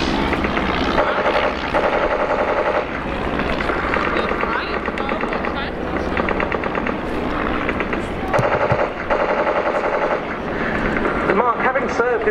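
SE-5A First World War biplanes fly at the RIAT 2018 air show, their loud, throbbing engine drone pulsing with rattling bursts as someone talks over it.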